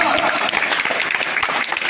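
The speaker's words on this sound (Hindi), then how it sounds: "इसलिए बस ताली बजाओ" Audience at a live comedy show claps in steady, dense applause, sounding fairly close and continuous throughout, with some voices mixed underneath the clapping.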